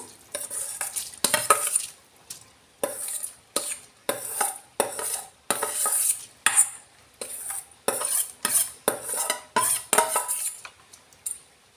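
A spoon stirs soaked rice through boiling water in a pot, giving repeated rhythmic scraping strokes, loud and close, with a faint bubbling sizzle between the strokes and no talking.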